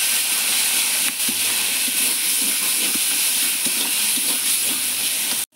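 Spices, turmeric and chilli powder sizzle in hot oil while a koi fish curry cooks, a steady close frying hiss with small crackles that runs unbroken and fairly loud throughout.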